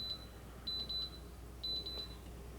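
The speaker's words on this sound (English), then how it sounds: "a high decibel beep will be played" Faint, high electronic beeps from a misplaced Soundcore R50i NC earbud, chirping in short clusters of two or three with brief gaps, quiet and thin against low background hum.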